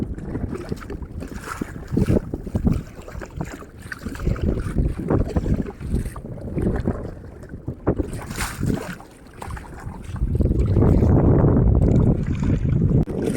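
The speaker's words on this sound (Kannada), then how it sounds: "ನೀರಿನ ವೇಗ ತುಂಬ ಟೈಟ್ ಆಗಿದೆ" Fast-flowing river water rushing beneath a boat, loud and continuous, with strong wind buffeting the microphone and a heavier surge of water and rumble toward the end.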